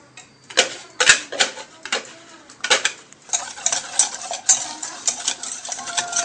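Pastry cream of milk, eggs and flour whisked in a pot over heat: steady, rapid scraping and ticking strokes that grow busier and denser as the stirring goes on, close and fairly loud.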